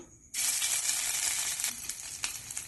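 Crushed ginger and chopped green chilli drop into hot oil with crackled cumin seeds, setting off a sudden loud, steady sizzle after a brief quiet moment that keeps frying close up with no talk.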